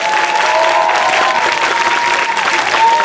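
Loud, dense clapping from a crowd at an engagement party fills the whole stretch, with a sustained tone and a few voices murmuring underneath.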